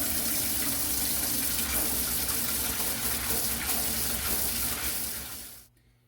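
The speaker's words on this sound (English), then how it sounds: "For part 2, refill the sink." A bathroom sink refilling with cold water from a running tap for washing a wig, a steady close gush that holds for about five seconds and then cuts off abruptly.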